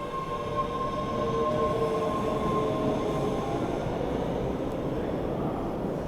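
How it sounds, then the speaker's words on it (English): A train passes nearby with a steady, loud rumble of wheels on rails and a faint high squeal running through it, with no speech. "Thank you, train. Thank you for your service."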